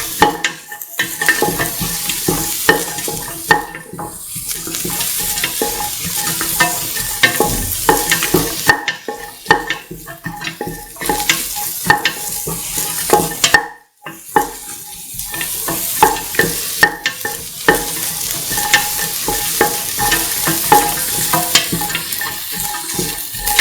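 Duck coconut milk rice stirred and tossed in a frying pan, with a continuous close sizzle broken by repeated scraping and mixing strokes, briefly pausing mid-way.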